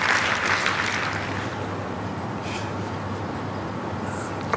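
Applause from supporters at a men's indoor singles bowls final in Warilla, Australia, steady broadband clapping from a crowd that fades slightly after the first second and holds at a moderate level.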